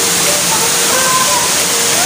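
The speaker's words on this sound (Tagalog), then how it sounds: "Welcome to Hidden Falls!" A waterfall at Hidden Falls in Luisiana pours in a steady, broad rush of water that holds at constant strength throughout, with people talking over it.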